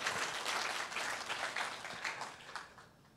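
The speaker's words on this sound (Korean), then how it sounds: "박수를 한번 이 어머니들에게 한번 쳐주시죠" Audience applause for farming mothers at a Gyeonggi public forum, a steady wash of many hands clapping together that fades slightly toward the end, with no voices over it.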